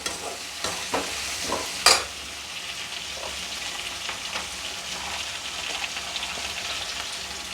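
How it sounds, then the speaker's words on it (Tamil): Ground ginger, garlic and spice paste sautéing for mutton kulambu: continuous close sizzle with scraping stir strokes and a few sharper clatters near the start, then an even frying hiss with no talking. "நல்லா வதங்கின பிற்பாடு அதை எடுத்து இதில் போடணும்."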